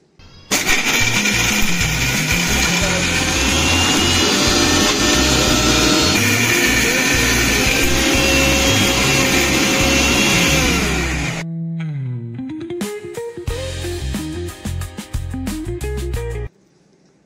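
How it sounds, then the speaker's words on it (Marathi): A kitchen mixer grinder whirs loudly and steadily grinding chutney with coriander, its motor winding down near the end before a second shorter run of grinding. "तर छान अशी ही चटणी आता मी मिक्सरला बारीक करून घेते"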